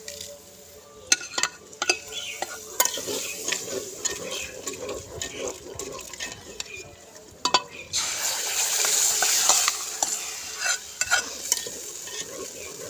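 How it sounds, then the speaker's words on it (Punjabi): A fried tempering is stirred into saag, giving a bright, close sizzle over a frying crackle, with scraping stirs and clinks of a spoon against the pot; the sizzle swells loudly partway through, with no talking. "ਤੜਕੇ ਨੂੰ ਹੁਣ ਆਪਾਂ ਪਾਉਣੇ ਆ ਸਾਗ ਦੇ ਵਿੱਚ"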